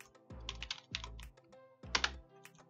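Keystrokes on a computer keyboard come in quick bursts of clicks with short pauses between them, close and fairly quiet, and no one speaks.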